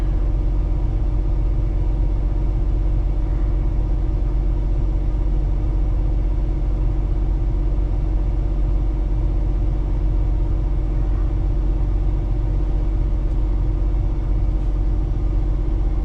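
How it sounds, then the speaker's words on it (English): A Peterbilt 389 truck's engine idles while warming up, a steady, loud, low rumble that holds evenly and close throughout with no talk. "Just fired up the truck, kind of let it warm up a little bit in here"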